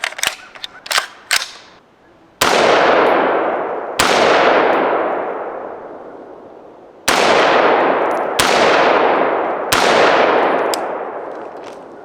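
Springfield Armory SA16A2 rifle, an M16A2 reproduction, firing a handful of spaced single shots, each a loud sharp crack with a long ringing decay, after some faint clicks and handling noises at the start.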